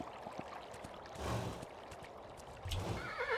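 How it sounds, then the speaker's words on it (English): A horse in the video game Kingdom gives a faint whinny over a soft ambient background with a gentle trickle of water. "Ah, horse."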